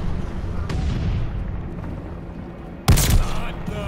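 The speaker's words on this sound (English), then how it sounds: "Enemy glide bomb coming in hot." A glide bomb explodes in Call of Duty Vanguard, a sudden loud close blast with a rumbling tail, following steady battlefield ambience.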